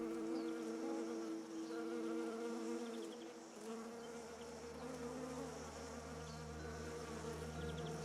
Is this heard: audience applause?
no